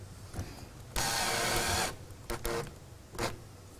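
A power driver sinks self-tapping screws into an RV roof, a steady whirring burst of about a second followed by short, sharp clicks and brief spurts of the tool, close up with no talk.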